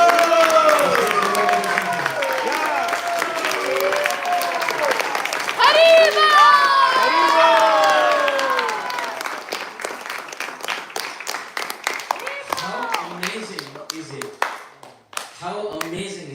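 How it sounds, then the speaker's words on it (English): Assembly at an ISKCON Atlanta temple gathering gives a big round of applause, with sustained clapping and cheering from a crowd that gradually thins out toward the end while voices call out over it. "Big round of applause."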